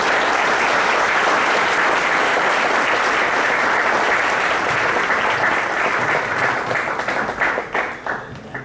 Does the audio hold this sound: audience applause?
yes